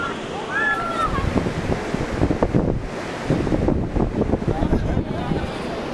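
Strong ocean waves break at a beach where swimming is forbidden, a steady rushing surge under gusty wind buffeting the microphone, with a person talking over it.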